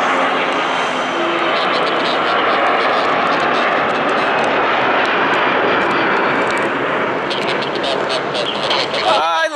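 Sun Country jet airliner taking off on a long takeoff roll at Atlanta, a loud continuous engine roar that holds steady throughout with voices talking underneath.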